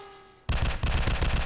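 Gunfire in a mobile shooter game bursts in suddenly after a quiet electronic hum, a rapid run of loud, close shots repeating in an even, fast rhythm.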